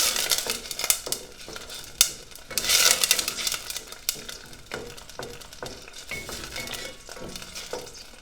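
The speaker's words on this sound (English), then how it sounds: "Let the beer cook down a little." Corona beer cooking down in a pan with mussels for cozze alla genovese, a busy bubbling sizzle broken by clinks and scrapes of a utensil against the pan.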